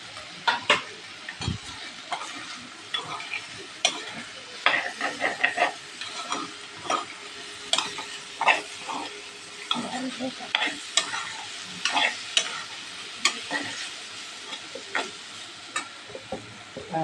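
Pork with crushed ginger and garlic sizzles in a hot pan while a utensil stirs and scrapes in steady, repeated strokes, each stroke a clear clatter over the continuous frying hiss.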